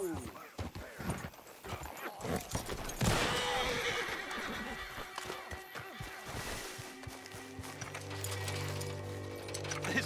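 A horse in the Red Dead Redemption 2 video game whinnies and its hooves clip-clop, with a voice speaking over the game sounds and the animal's noises rising midway.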